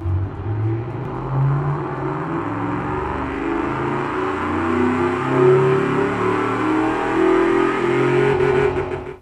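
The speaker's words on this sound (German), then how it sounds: "Der Klang fetter V8-Motoren verursacht dir eine Gänsehaut?" A deep V8 engine in a video game rumbles and revs loudly, its pitch climbing and falling in steady surges, up close with no voices.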